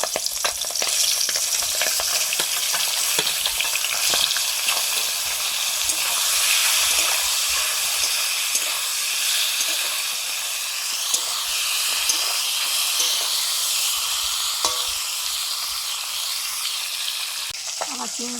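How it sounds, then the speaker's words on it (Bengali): Fish frying in a hot kadai sizzles continuously, with fine crackles and spits over a steady hiss at moderate loudness throughout and no voices. "কড়াই গরম হয়ে গেছে মাছগুলো দিয়ে দিচ্ছি"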